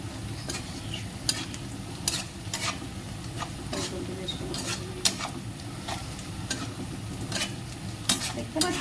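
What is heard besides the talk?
chicken 65 frying and being stirred in pan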